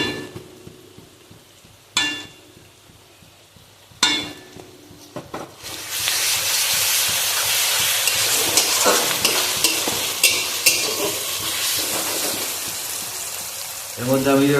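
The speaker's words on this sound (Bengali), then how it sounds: "পেঁয়াজ আর ক্যাপসিকাম ভালো করে ভেজে নেব" Onion and capsicum fry in a pan as kacchi chicken kosha is prepared, starting quiet with a few sharp utensil knocks, then breaking into a loud, steady, close sizzle that runs to the end.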